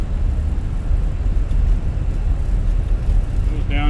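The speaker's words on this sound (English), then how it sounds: "Reversers are out." Thrust reversers deployed on an A321neo airliner just after landing in Microsoft Flight Simulator, a steady, loud, broad roar that holds for the whole stretch while a voice talks over it.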